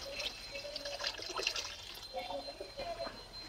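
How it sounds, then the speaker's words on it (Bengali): One litre of water poured onto 3 kg of sugar in a pot for rasgulla syrup, a soft, steady trickling splash running throughout beneath a voice speaking. "3 কিলো চিনিতে দিয়ে দিচ্ছি 1 লিটার জল।"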